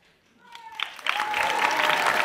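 Audience at a stage comedy tribute breaks into applause, quiet at first and then swelling after about a second into dense, steady clapping that fills the hall. A faint voice is heard briefly near the start.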